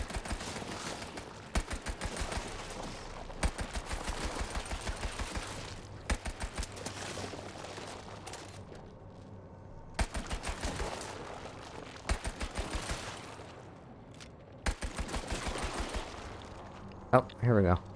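Bursts of automatic gunfire in the video game FBC Firebreak, repeated rapid rattling volleys with short pauses between them, fairly close and sharp over faint background game noise.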